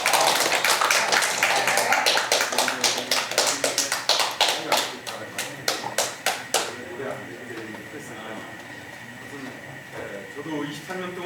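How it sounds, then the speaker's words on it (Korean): An audience at a Korean judicial-justice citizens' group event claps, first in a brisk, irregular patter that thins into scattered claps, then fades under voices talking. "큰 박수로 모시겠습니다."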